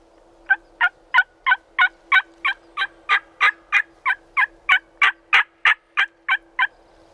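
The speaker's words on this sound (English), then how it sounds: "One out in front gobbling lot." Wild turkey gobbling, about twenty sharp rapid gobble bursts in a steady rhythm, clear and moderately close in a quiet outdoor spring hunting setting, with no talking.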